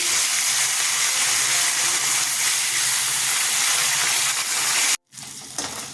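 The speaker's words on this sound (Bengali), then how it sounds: "বাকি মাছ ছেড়ে দিচ্ছি" More small sarputi fish go into hot mustard oil, producing a loud continuous hiss of frying that cuts out abruptly near the end before quieter sizzling resumes.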